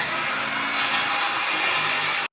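A Skil circular saw rips through 2x4 lumber, giving a loud, steady high whine with a gritty cutting rasp that ends abruptly.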